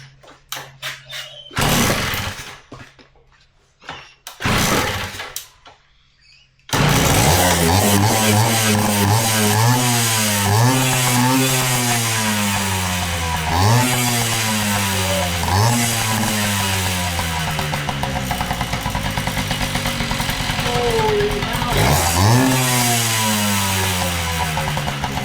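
An old barn-find Kawasaki dirtbike engine is kicked over a couple of times, then catches and settles into a loud, choppy idle with repeated throttle blips rising and falling, heard up close.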